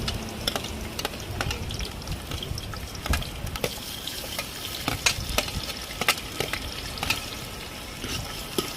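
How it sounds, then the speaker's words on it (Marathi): Onion is sautéed in hot oil in a pot over a wood fire, giving a continuous loud sizzle with frequent clattering stirs and scraping strokes throughout. "तेल गरम झाले, कांदा परतून घेऊया."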